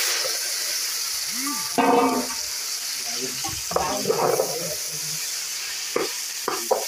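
Jackfruit vegetable stir-fried in a pan over a village wood-fired clay stove, sizzling steadily while a spoon scrapes and knocks, with a few short voices and clatters in the background.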